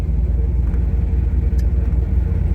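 An old car rolls along at about 25 miles per hour, its engine a steady low rumble under continuous road noise, heard from inside and close throughout.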